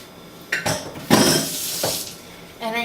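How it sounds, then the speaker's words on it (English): Tomato juice and pulp poured into a cooking pot, a wet splashing and glugging pour with a few clanks of the container against the pot rim, fairly close, no talk. "I'm just gonna pour this whole thing of the tomato juice and the tomato pulp inside of this pot very carefully"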